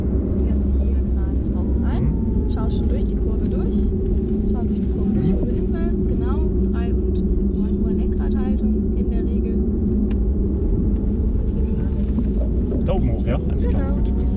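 A Porsche Taycan on the Hockenheim circuit, its electric drive rising steadily as it accelerates out of a corner, heard from the cabin as a continuous low hum and rumble while a voice talks over it.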